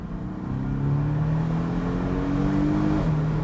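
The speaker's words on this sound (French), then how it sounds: "Alors c'est un 4 cylindres, donc évidemment, le bruit est tronqué." A Porsche 718 Boxster's four-cylinder engine revs hard on small roads, its steady drone climbing in pitch and then dropping sharply at a gear change. Loud and close, with no talk.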